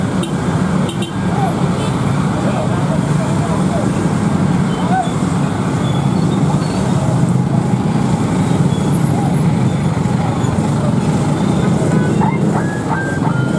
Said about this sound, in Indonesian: Oh itu suara truk.